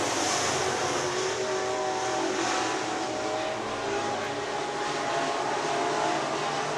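Sprint cars racing at Crawford County Speedway make a continuous loud roar of high-revving engines, a dense steady wash of sound with no breaks and no speech.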